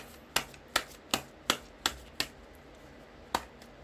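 Tarot cards are drawn and laid down, producing seven crisp, sharp snaps close by, six in a quick even rhythm followed by one more after a short pause, in a quiet room with no talking.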